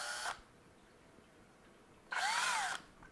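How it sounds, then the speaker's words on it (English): A power drill bores straight down through material while building a 3D-printed controller mini-wheel, a short whine at the start and a louder, rising burst of motor noise later, separated by a quiet pause. "And then we just drill straight down through this material."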